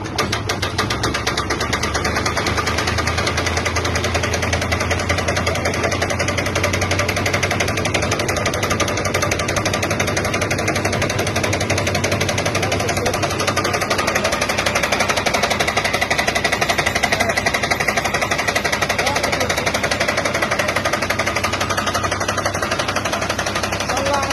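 A Sarsmatik Doğanşahin 100-ton tree shaker machine runs continuously with a loud, dense mechanical engine rumble and rattling vibration, steady throughout with no pause.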